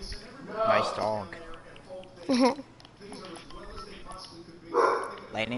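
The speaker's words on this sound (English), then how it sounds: "Nice dog." A dog barks in a battle royale video game, with a few short barks and yips spread out at intervals among game sounds and talking.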